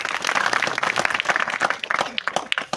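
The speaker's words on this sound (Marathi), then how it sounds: "तुम्ही सर्वांनी स्वतःसाठी एकदा जोरदार टाळ्या वाजवल्या" Loud, dense applause from a crowd of farmers at a maize farming meeting in Nashik district, steady clapping filling the whole stretch with scattered sharper claps standing out.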